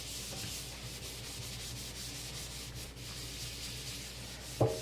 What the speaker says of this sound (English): they actually come up when you rub them vigorously